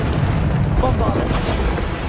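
A Bombarda spell blast in Hogwarts Legacy goes off as a loud, rumbling explosion, with dense low booms and crackling debris filling the whole stretch up close.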